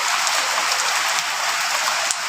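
Heavy rain pours steadily at night in Fatikchhari, a dense, even hiss of drops on surfaces with one brief sharp knock near the end.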